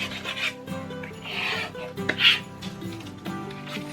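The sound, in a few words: burnishing vinyl transfer tape with a weeding tool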